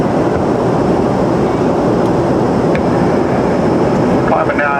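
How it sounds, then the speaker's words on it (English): Steady, loud broadband roar of an airliner cabin as the plane climbs out on a flight to Seattle, continuous and unbroken throughout, with faint muffled voices. "Welcome aboard our flight to Seattle."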